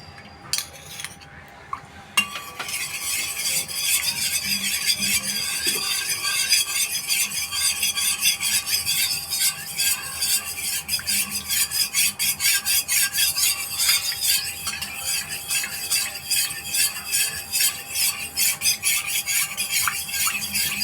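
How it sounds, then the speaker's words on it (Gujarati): Fafda dough being mixed with added oil in a bowl: after a brief quiet start, a continuous, rhythmic scraping and clinking of a utensil against the vessel goes on for nearly twenty seconds, close and steady, with no talking. "હવે આપણે એમાં તેલ એડ કરીશું અને સરખી રીતે મિક્સ કરી દઈશું"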